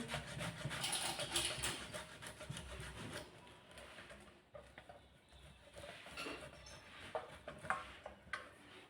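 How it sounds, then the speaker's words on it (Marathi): Potatoes are grated by hand for sabudana vada, making a faint, repeated rough rasping scrape in uneven strokes, close by, with no voices. "तर अशा प्रकारे सर्व बटाटे आपण किसून घेऊ"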